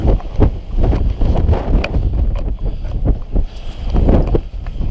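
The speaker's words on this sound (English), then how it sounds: "80-mile-an-hour wind gust." Strong wind buffets the microphone in loud, continuous gusts on a winter hike up a mountain trail in the Great Smoky Mountains toward Charlies Bunion, with no speech over it.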